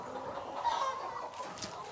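Chickens cluck and murmur steadily at moderate distance in a farm coop with deep litter on the floor, a soft, continuous flock chatter with no voices over it.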